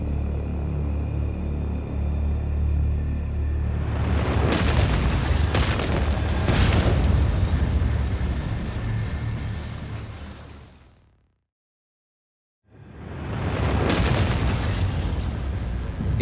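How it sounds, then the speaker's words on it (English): An explosion at a rocket laboratory, heard as a sustained loud roaring boom with crackling bursts. It cuts to near silence and then a second heavy roar rises. "famed American rocket engineer Jack Parsons lies in the rubble of his exploded laboratory"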